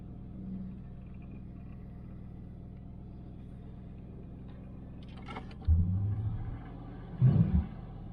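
A 1982 Chevrolet El Camino engine idles with a low, steady rumble, joined near the end by two short louder bursts of clunking or revving close by.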